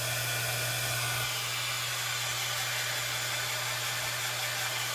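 A hair dryer blows steadily to dry fresh paint on a Dollar Tree tiered tray, a loud, even rushing hiss with a low motor hum that holds for the whole stretch, no voices over it.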